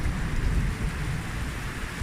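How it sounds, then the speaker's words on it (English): Steady heavy rain with a low rolling rumble of thunder beneath it, sheltering at a farm during a bikepacking ride in Wales; no voices. "did you hear the thunder?"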